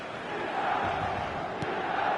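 Stadium crowd roaring on match day in a football video game, a dense steady wall of chanting and cheering voices at a distance, sustained without pause.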